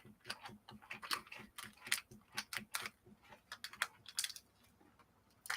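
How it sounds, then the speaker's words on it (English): Plastic chocolate wrapper from Reese's peanut butter cups crinkling in repeated short rustling bursts close to the microphone, with no talking over it. "Yes, that you hear me crinkling."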